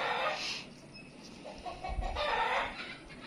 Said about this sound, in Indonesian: Ayam lagi ribut, lagi bertelur kayaknya.